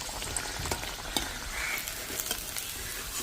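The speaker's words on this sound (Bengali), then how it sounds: "এই পিঠ ওই পিঠ ভালো করে উল্টে অল্প অল্প জালে ভালো করে ভেজে নিতে হবে," Egg and potato snacks frying crisp in oil over low heat, a steady close crackling sizzle with scattered pops and light clicks as pieces are turned, no voices.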